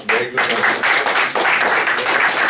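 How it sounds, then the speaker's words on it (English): A meeting audience gives the general evaluator a round of applause, with a burst of close, fairly loud clapping that dips briefly and resumes while a voice speaks over it. "let's give him a round of applause."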